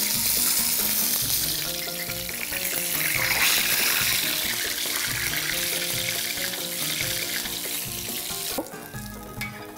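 Çiğ börek, a thin stuffed Turkish pastry, fries in hot oil in a pan with a steady, loud, close sizzle and crackle that continues throughout, shifting briefly near the end.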